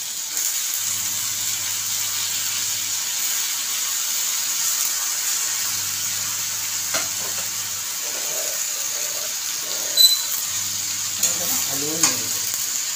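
A quarter kilo of fresh eggplant with potato fries in hot oil over a medium gas flame, a steady loud sizzle with scraping stir strokes and a few soft clatters near the end.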